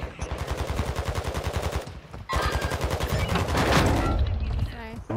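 Rapid automatic gunfire from Call of Duty: Modern Warfare II, loud and close, with sustained bursts, a brief pause near two seconds, then denser overlapping fire with a faint voice underneath.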